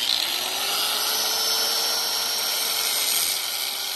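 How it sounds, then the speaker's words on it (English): An angle grinder's cutting wheel bites steadily into a lug nut stuck on a spinning wheel, a loud continuous high-pitched whine and grinding scream that holds level for about four seconds with no talk. "Cut it in half with the grinding wheel."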